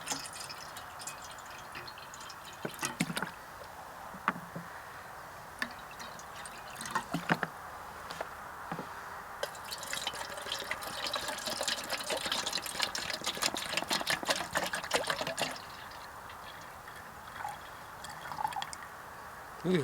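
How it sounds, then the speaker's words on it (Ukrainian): Water pours and trickles into camping pots, about half a litre each, for an ultralight stove boiling test, with a steady splashing fill and scattered drips, close by and with no voices. "Приблизно наливаю по пів літру в кожну."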